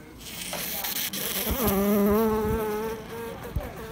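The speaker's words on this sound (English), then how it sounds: "We got a dusty bee coming out." A bee buzzes as it emerges from a hive column packed with honey, its drone rising to a loud, close, wavering hum that sways in pitch before fading slightly, with no talk over it.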